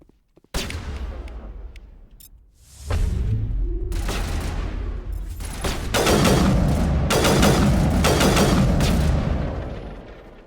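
A grenade blast and heavy gunfire in the video game Mass Effect: a sudden boom, then sustained, loud, dense bursts of weapon fire that roll on and fade toward the end, with no talk.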